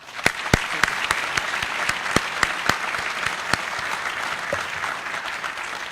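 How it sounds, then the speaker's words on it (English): Audience applause at a fire academy recruit class graduation ceremony, a room full of steady clapping with a few sharp, close individual claps standing out. "I'd like everyone to give him a round of applause"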